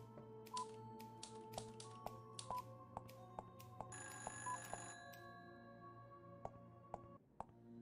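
Telephone ringing in the game Fran Bow, a bright electronic ring pattern in a steady burst midway, over soft game music with scattered taps and clicks.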